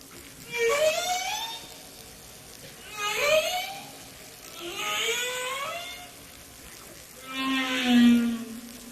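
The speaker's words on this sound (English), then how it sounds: "they were recording the whales" Whale song picked up by a hydrophone in the South Pacific: four long, rising and falling moaning calls spaced a few seconds apart, each swelling and fading against quiet underwater background.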